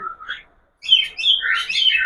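Cockatiels in breeding pots chirp in short, bright bursts, a brief call, a pause of near silence, then a busier run of overlapping close chirps.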